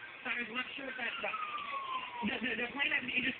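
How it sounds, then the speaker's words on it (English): A siren wails faintly in the distance, a long gliding tone beneath steady nearby chatter and background noise. "We're hearing sirens."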